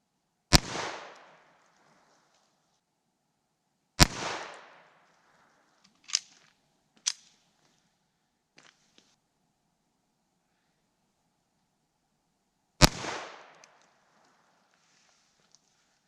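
A Taurus TX22 pistol fires .22 rounds into ballistic gel. Three sharp, loud cracks stand well apart, each with a short fading echo, with two smaller pops and faint clicks between them in a quiet setting.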